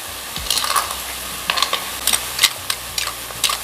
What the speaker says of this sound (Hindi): थोड़ा थोड़ा करके इसको डालते रहेंगे। चम्मच की मदद से इसे हम चलाएंगे।